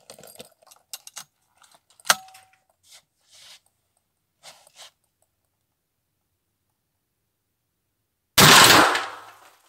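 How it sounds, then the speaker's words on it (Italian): Small mechanical clicks from adjusting the windage and elevation turrets of an Aimpoint S1 red dot sight on a 12-gauge shotgun, a scatter of light taps and ticks up close, followed by a single loud shotgun blast near the end. "Do altri due click e torno indietro sul destro e sinistra."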